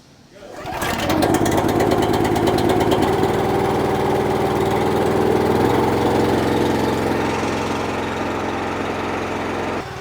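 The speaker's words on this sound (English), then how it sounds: "I'm gonna let this thing warm up for a little bit" A Honda GX390 small gasoline engine pulls to life and settles into a steady, loud, continuous run, its choke and throttle set midway as it warms up, with the drone holding close and unbroken throughout.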